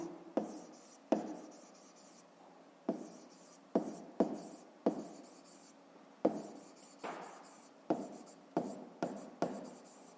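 A pen scratching on paper in a sequence of close, crisp strokes, a dozen or so short scrawls with sharp onsets and small gaps between them, in a quiet room with no speech.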